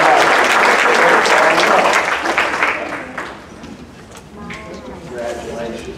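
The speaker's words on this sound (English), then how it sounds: "Let's give Linda a round of applause." Audience applause at a college fall kickoff event, loud and dense at first, then thinning and fading over the last half as a few scattered claps and voices remain.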